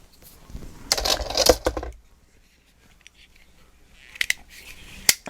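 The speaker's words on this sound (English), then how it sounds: "And just give it a nice straight cut, okay?" Scissors snip paper in a straight cut, two bursts of crisp slicing with a pause between, close and clear with no talk.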